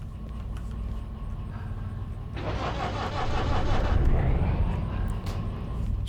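Two diesel locomotives in the Derail Valley train simulator fire up together, a low engine rumble building sharply partway through and swelling into a loud, steady roar.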